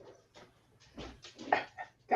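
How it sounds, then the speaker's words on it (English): Dogs indoors bark and whimper in a short series of yips and woofs, some overlapping, at moderate distance with a little household noise behind them. "There might be some barking because one of the dogs has stolen the other dog's chair."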